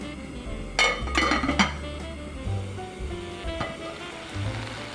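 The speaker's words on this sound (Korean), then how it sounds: "냄비에 찜기를 넣고 물을 한 컵 넣어 센 불에 올려주세요." Metal steamer basket set into a pot with a cup of water: a few close metallic clinks and clatters early on, then quieter kitchen handling and faint low hum.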